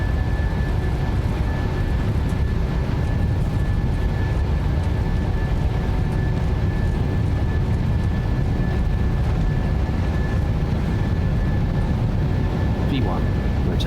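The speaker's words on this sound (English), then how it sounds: "Takeoff thrust set, indications normal." The engines of a Boeing 737 roar at takeoff thrust in a flight simulator, a broad, steady low rumble with a faint tonal whine that lasts throughout, while a pilot's voice speaks over it.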